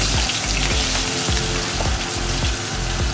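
Potatoes fry in hot oil with a steady crackling sizzle, broken by soft rhythmic thumps of stirring, close and fairly loud throughout.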